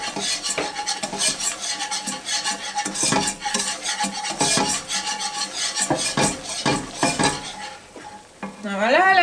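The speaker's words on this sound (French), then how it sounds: "J'ai fait fondre 40 g de beurre et j'ajoute 40 g de farine. Donc on mélange, on fait un roux" Butter and flour roux stirred in a pan, with a steady scraping, rasping stir and faint sizzle running throughout; a short tonal warble appears near the end.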